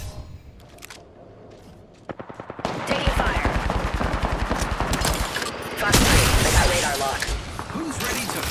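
Sustained machine-gun fire in a battle royale video game, a rapid rattling stream of shots that starts sparse then turns loud and continuous, with other bursts overlapping and voices speaking over the action.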